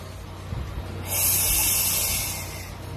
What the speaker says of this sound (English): You should inhale, then exhale,